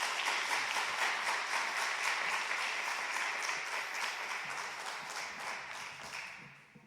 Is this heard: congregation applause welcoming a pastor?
yes